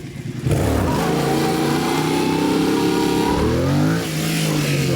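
A motorcycle engine revs up loudly and holds a rising, throaty roar, then the pitch dips briefly as the clutch engages.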